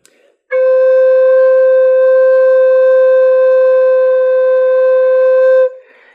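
A side-blown spirit flute sounds one solid, sustained bottom note, pure and steady for about five seconds, loud and close with no talk.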